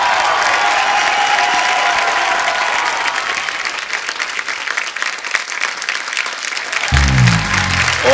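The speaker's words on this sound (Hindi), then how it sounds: "ओ जोरदार तालियां एक बार बाबा जी के लिए।" Studio audience at a comedy talk show bursts into loud, sustained applause for yoga guru Baba Ramdev, a dense wash of clapping that holds steady throughout, with a low thump near the end.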